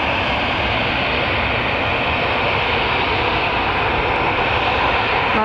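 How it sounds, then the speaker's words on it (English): An EasyJet Airbus A320 bound for Paris at Manchester Airport gives off a steady, fairly loud broadband jet roar that holds level throughout, with no speech. "we have got an EasyJet that's going to Paris"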